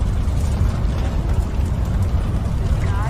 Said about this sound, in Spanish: Fijaos la explosión otra vez, que está chulísimo el efecto de las explosiones